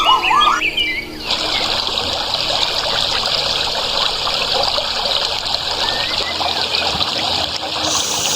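A small river swollen with water runs swiftly toward a waterfall, its steady rushing wash heard close and continuous, with a few birds chirping early on.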